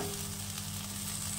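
Bitter gourd, potato and onion fry in a pan with just salt and turmeric, giving a steady, even sizzle close up with no talking.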